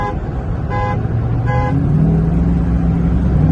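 A Dodge Scat Pack revving and pulling hard on a dark road during a race, a loud steady engine drone rising in pitch, with two short horn-like toots near the start.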